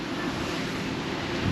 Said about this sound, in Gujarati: મસ્ત ઠંડો પવન આવે છે અને સાથે સાથે વરસાદ આવી ગયો છે